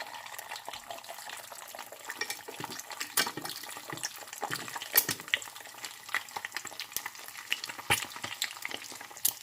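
Egg white frying in a hot pan for a crispy egg topping, a steady close sizzle and crackle with irregular louder pops and spits throughout, no voices.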